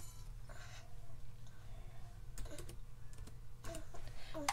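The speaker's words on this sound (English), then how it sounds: "So I'm going to just type her name." Typing on a computer keyboard in quick bursts of key clicks, close and moderately loud over a steady low room hum, with no talking.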